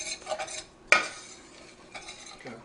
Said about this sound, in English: Now I've got 3 tablespoons of flour, so we want to mix that up.